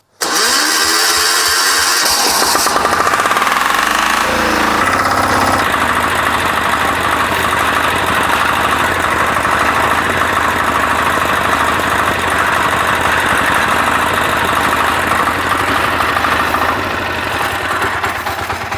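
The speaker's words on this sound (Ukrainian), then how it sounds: "Та запускаємо мотоблок." A walk-behind tractor (motoblock) engine cranks briefly, then catches and settles into a loud, steady close-up running drone with a chugging, knocking beat that continues alone for the rest of the clip.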